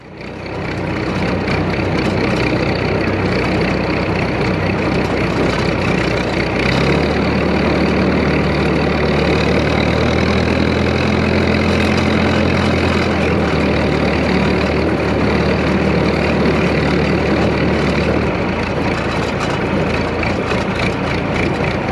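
A large tractor engine idles steadily and loudly close by, a deep constant rumble with a low throb that holds throughout.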